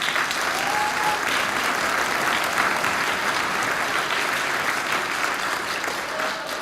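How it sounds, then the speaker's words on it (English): Audience applause at a middle school band concert for grades six through eight, a full, steady roar of many hands clapping that holds evenly throughout with no talking. "Round of applause for those guys."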